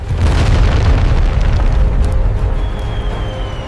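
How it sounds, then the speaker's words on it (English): A heavy, booming missile blast as an A-4 Skyhawk jet is torn apart, a loud sustained roar of explosion and fire that slowly fades over several seconds. "The missile hits behind the cockpit, tearing the Skyhawk apart."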